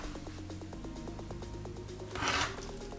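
A rotary cutter trims fabric half square triangles for a Hunter's Star quilt block, a rapid series of soft rhythmic clicks, then a brief louder scraping rasp near the end, heard close and faint.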